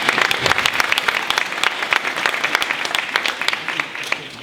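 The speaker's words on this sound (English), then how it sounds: "I want you all to give yourselves a round of applause for being so amazing." A graduation audience gives a lively round of applause, a thick, continuous patter of many hands clapping at close to moderate distance, with no break in the sound.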